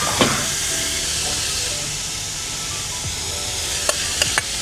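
Steady sizzling hiss of pork frying in a pan for pancit bihon, continuous throughout with a few sharp pops and clinks near the end.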